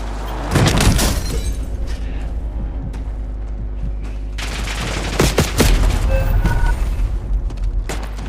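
Bursts of automatic gunfire and booming shots in a Call of Duty Warzone match, loud and close, with dense overlapping volleys at the start and again near the end.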